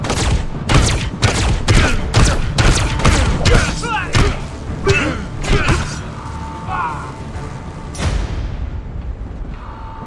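Weapon fire in the video game Eisenhorn: Xenos: a fast series of loud, punchy shots and mechanical clanks over a dense rumbling backdrop, dropping off abruptly near the end.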